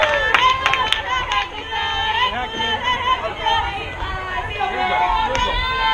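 Crowd noise from both dugouts at a 14U girls' softball tournament game: continuous overlapping chatter, shouts and cheering voices, with a few sharp claps or hits, fairly loud and busy throughout.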